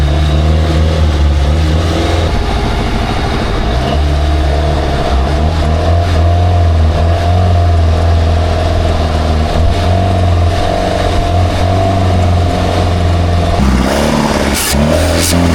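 An old outboard boat engine with a dirty, struggling carburetor runs loud and close, a continuous rough mid-pitched drone that holds steady for a long stretch, then shifts and surges near the end.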